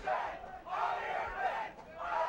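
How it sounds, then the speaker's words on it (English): A paintball crowd chants rhythmically at the 2009 PSP Phoenix Open Pro final between the Los Angeles Ironmen and Philly Americans, the voices swelling loud and steady in repeated waves with brief dips between. "Are they chanting Billy or Philly?"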